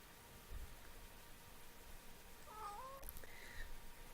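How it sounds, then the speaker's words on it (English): A pet cat yawns close by during quiet indoor crafting, a brief soft squeaky vocal sweep over a low hiss, followed by a faint, thin squeak. "that was my cat yawning next to me"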